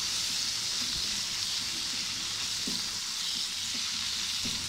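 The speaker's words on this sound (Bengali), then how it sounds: "এখন আলু পেঁয়াজের মধ্যে গোল করে কেটে রাখা টমেটোগুলো দিয়ে আর কাঁচা লঙ্কা দিয়ে ভালো করে ভেজে নিতে হবে।" Potatoes and onions fry with round-sliced tomatoes and green chillies, a steady close sizzle with soft scraping stirs now and then, no voices.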